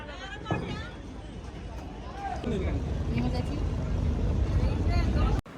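A motorboat engine drones steadily on the Ganges at Varanasi, growing louder partway through, with people chattering nearby over the constant hum.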